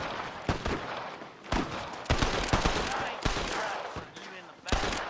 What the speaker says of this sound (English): but then heard more gunfire.